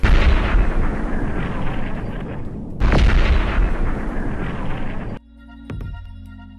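Modern naval artillery of the Mexican Navy fires two heavy blasts about three seconds apart, each followed by a long rumbling decay. A quieter, steadier tonal sound follows the second blast.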